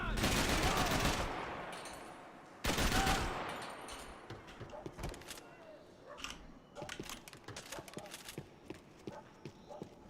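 Rapid bursts of gunfire in the video game Max Payne 3. Dense, loud volleys come first, then scattered shots and clattering sounds under faint talk.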